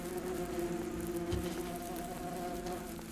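Bumblebee workers buzz around their underground nest while carrying pollen, producing a steady, close, droning hum with layered tones that persists throughout without pause.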